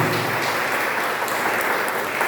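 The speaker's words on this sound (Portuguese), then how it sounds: "Você pode aplaudir a Deus por isso? Aplaude a Deus." A church congregation applauding God during a worship service, a dense, loud, continuous wash of clapping from many hands filling the whole moment.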